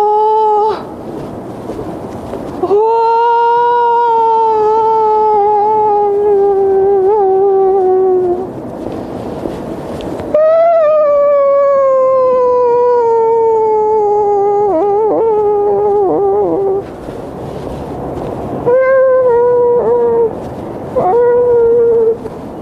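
A human voice imitates howling wind with long, wavering, tonal howls that rise and fall in pitch, loud and close, in several sustained stretches separated by brief breaks.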